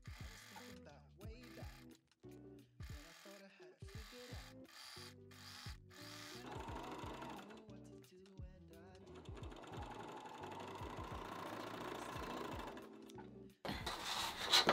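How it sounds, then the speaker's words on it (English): A serger sews and finishes fabric edges in short bursts of rapid mechanical whirring and stitching, with pauses and handling sounds in between. It plays fairly quietly and no one talks. "I'm going to serge all the edges to prevent fraying"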